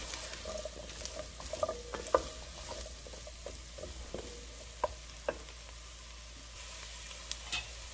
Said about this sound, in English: just gonna add the spices here the oregano the black pepper and the chili flakes just mix that right inside